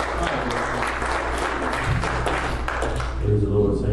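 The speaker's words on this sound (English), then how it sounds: "Give Lord a hand clap." A church congregation claps hands in praise during a worship service, a steady dense patter of clapping throughout, with a low hum of music or organ and some voices underneath.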